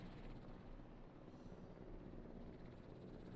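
Steady helicopter rotor and engine drone from the Jurassic World Evolution game, a continuous moderately loud whir with no talk over it.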